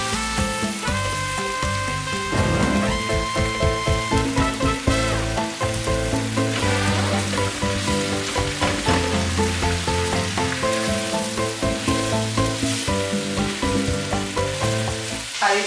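Chopped onion and garlic sizzling steadily in a hot pan, a continuous crackling fry with occasional stirring, close and fairly loud with music playing underneath and no talk.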